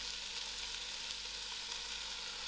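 Lamb pieces fry in a pot for a spicy lamb stew, giving a faint, even, hissing sizzle that holds steady without breaks or voices.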